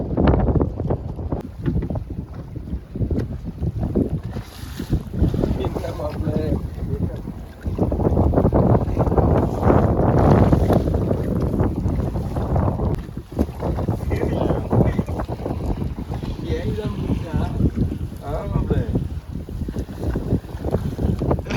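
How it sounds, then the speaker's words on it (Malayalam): Strong wind roars steadily against the microphone on a sardine fishing boat at sea off Tamil Nadu, with rushing water and the boat's motion beneath, gusting harder midway through. "കാറ്റ് ഒത്തിരി ശക്തിയായിട്ട് കൂടിയിട്ടുണ്ട്"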